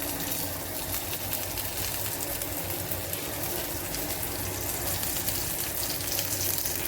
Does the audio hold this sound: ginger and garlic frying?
yes